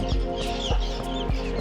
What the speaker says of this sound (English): Tens of thousands of birds just saying good morning.